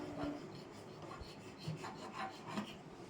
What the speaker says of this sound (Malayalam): അപ്പോൾ ഞാൻ ഈ അവസാനത്തെ ഇതിൽ വെച്ചിട്ടാണ് കട്ട് ചെയ്യണത്